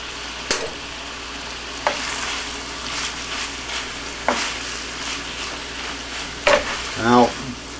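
Rice for four meat fried rice sizzles in a hot pan as it is stir-fried, a steady frying hiss punctuated by several sharp scraping clacks of the spatula and a quick rattle near the end.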